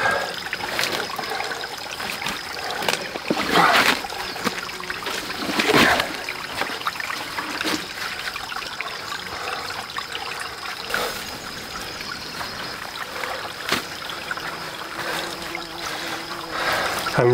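Shallow river on a Spanish homestead flowing over stones, a steady close trickle and splash with occasional louder sloshes as rocks are moved in the water.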